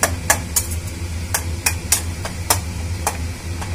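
Spiced mashed potato filling for aloo paratha roasted in a pan on a gas stove, a spatula scraping and stirring in a loose rhythm of about a dozen sharp strokes over a low steady hum.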